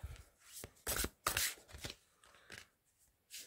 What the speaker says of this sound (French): Je vais tirer 3 cartes.